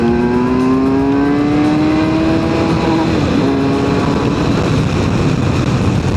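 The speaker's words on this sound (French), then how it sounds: "Ah ouais, ça accélère fort. ça accélère fort" A Kawasaki Versys motorcycle accelerates hard on the road after a roundabout, a loud close engine note rising steadily in pitch over heavy wind rush, with no talking.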